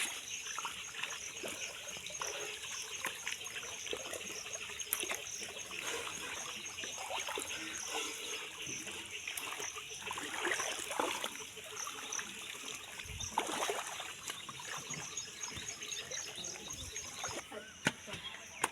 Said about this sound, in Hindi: देखिए गाइस यहाँ पर बारिश बारिश होती हुई देखना।